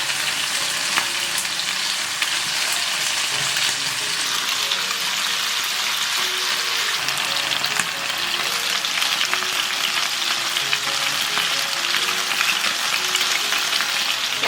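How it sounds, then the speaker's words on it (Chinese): Chicken thigh pieces sizzle skin-side down in hot oil over medium-low heat for Chaozhou-style satay chicken, a steady, close, crackling fry that goes on evenly for many seconds without any talking. "油温热了，把鸡腿肉放进来煎。"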